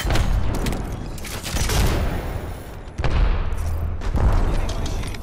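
Bursts of gunfire and booming impacts come from a shooter video game, loud and dense with short pauses between volleys and a voice faintly mixed underneath.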